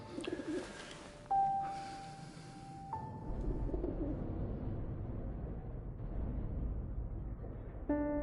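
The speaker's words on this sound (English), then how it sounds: "He found a gravely injured bird, which he nurses back to health." Soft, breathy cooing of a gravely injured bird in the video game 11-11 Memories Retold, a few low tonal calls and pitched notes heard faintly against a quiet rumbling background.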